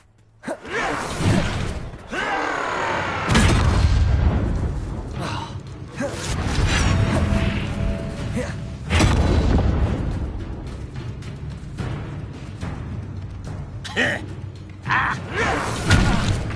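A Bombarda blasting spell in Hogwarts Legacy erupts in a loud, booming explosion with rumbling debris, followed by further thuds, creaks and crashing impacts of spell combat in a game fight.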